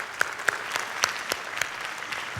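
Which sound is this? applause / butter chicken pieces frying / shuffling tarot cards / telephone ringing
applause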